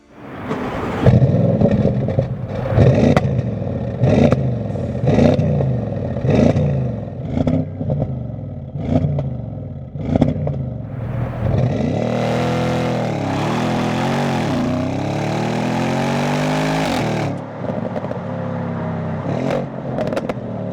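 An Audi S6 C7 engine revs in several sharp bursts, then settles into a deep, steady rumble before easing off, loud and close.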